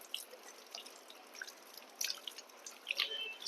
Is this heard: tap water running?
yes